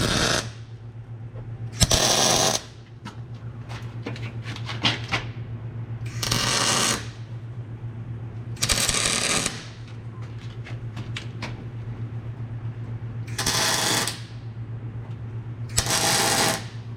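Tack welding trailer hangers onto a tandem axle trailer: six short loud bursts of crackling, buzzing weld arc, each lasting about a second, separated by quieter pauses with a steady low hum underneath.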